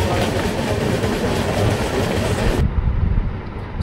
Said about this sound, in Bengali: শিলিগুড়ি ছেড়ে আমাদের ট্রেন এগিয়ে চলেছে নিউ মাল জংশনের পথে।